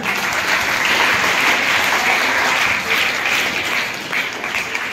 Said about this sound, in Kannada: ಅದರ ನಮಗೆ ಒಂದು ಜೋರದ ಚಪ್ಪಾಳೆ ಬರ